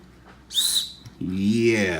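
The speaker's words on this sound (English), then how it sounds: "Yeah, that's a whistle." A small survival-kit whistle gives a short, shrill toot, followed moments later by a lower, wavering note, both blown close by in a quiet room.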